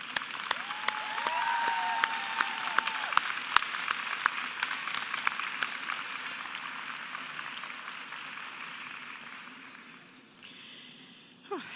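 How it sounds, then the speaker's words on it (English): Audience applause for nursing students at a 2019 FLCC freshman nursing advancement ceremony, a steady roomful of clapping that swells early, then gradually thins and fades toward the end. "please join me in a round of applause for these wonderful people in the audience"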